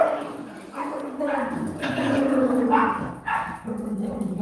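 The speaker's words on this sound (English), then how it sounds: "These dogs are crazy." Dogs barking in a burst of yips and barks with some whining and growling, fairly close and loud, mixed with a voice talking.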